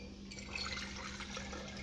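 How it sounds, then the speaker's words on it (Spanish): Distilled water is poured into a laboratory flask while a culture medium is being prepared. It makes a soft, steady trickle that stays quiet and continuous and carries no voices. "Le agrego un poco de agua destilada, debe de ser agua destilada"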